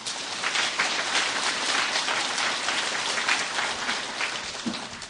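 Steady, dense applause from a seminar audience welcoming a neurology professor to lecture on chronic headache diagnosis and treatment, a continuous even patter of many hands with no voices over it.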